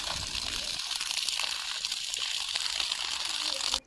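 Water from a storage tank rushing steadily out of a pipe to irrigate a hillside pea field, a loud, continuous gushing hiss that cuts off abruptly at the end.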